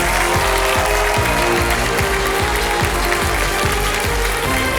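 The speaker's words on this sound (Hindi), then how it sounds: "जोरदार तालियां बजाने के लिए।" A studio audience at the Kaun Banega Crorepati quiz show applauds, a loud, steady roar of clapping with rhythmic mechanical clicking beneath it, continuous throughout.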